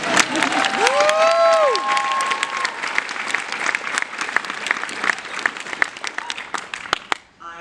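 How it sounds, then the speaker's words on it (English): A convention audience at an SDCC 2024 Dragon Age panel breaks into loud, sustained applause with cheers and whoops, which thin out into scattered claps before stopping. "We've got applause going, let's go."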